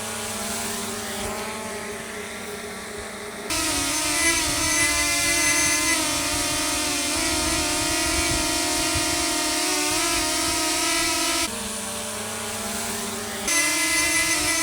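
Two small drones, the DJI Lito X1 and the Flip, hover with a steady propeller whine; the pitch shifts noticeably between sections, one drone lower and quieter, the other higher and louder, with no talking.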